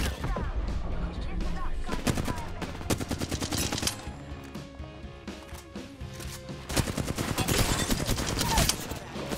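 Rapid bursts of Apex Legends gunfire crackle loudly in dense volleys, with short pauses between automatic strings of shots.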